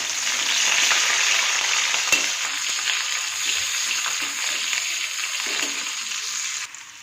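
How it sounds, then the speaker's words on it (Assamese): Onions and green chillies frying in hot oil: a steady, close hiss of sizzling throughout, with faint stirring clicks and no voices. "তেলখিনি গৰম হৈ গৈছে, এতিয়া মই পিঁয়াজ দিছোঁ আৰু কেঁচা জলকীয়া দি দিছোঁ।"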